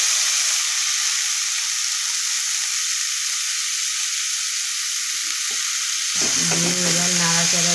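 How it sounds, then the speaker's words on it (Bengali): Banana stem (thor) fries with onions in a pan as a steady, bright sizzle and hiss; near the end the frying drops away and a musical tone enters under the ongoing crackle. "পেঁয়াজটা ভাজা হয়ে গেছে, এবার আমি কেটে রাখা থোড়গুলো দিয়ে দিলাম"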